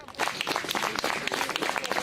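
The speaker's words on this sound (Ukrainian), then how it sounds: "проводжають її оплесками" A crowd applauds, dense rapid clapping filling the whole stretch at moderate volume, with faint voices mixed in.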